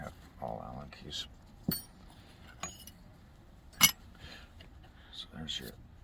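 A set of blue Allen keys handled on the ground beside a 1980 Yamaha XS650 motorcycle under repair, giving scattered metallic clinks and jangles, several sharp ticks among quieter rattling, fairly faint and close.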